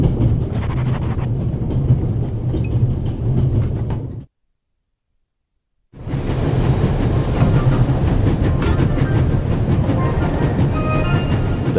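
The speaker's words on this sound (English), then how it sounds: "It will be suicidal to climb up there while the train is at full speed." A train in The Raven video game runs at full speed, giving a loud, steady rumble with a rattling rhythm of the rails. The noise cuts out completely for a moment, then returns just as strong.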